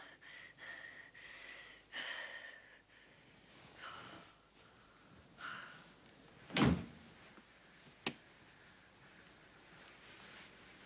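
A door slams shut in a film scene from Bear Island (1979): one sharp, loud broadband thud, followed by a brief click or latch, with quieter room sound and shuffling before it.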